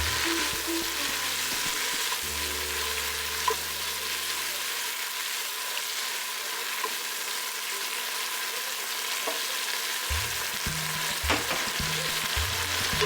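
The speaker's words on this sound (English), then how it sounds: "Once the onion turns soft and translucent, in goes the tomatoes. Cook it for about 5 minutes until they turn mushy." Tomatoes and softened onion frying in a pan for a mushy curry base, a steady broadband sizzle running throughout with a low hum that drops out mid-way and returns, plus a few faint scrapes and clinks.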